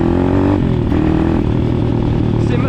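A cheap RFZ 150cc dirt bike engine revs loudly and close, a continuous buzzing drone that eases off briefly, then holds a rough, steady note.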